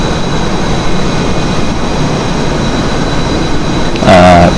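An F/A-18E jet taking off in a flight simulator, a steady loud engine roar with broadband rushing noise throughout, joined near the end by a brief tonal whine or alert.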